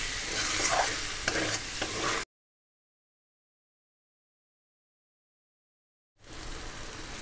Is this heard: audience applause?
no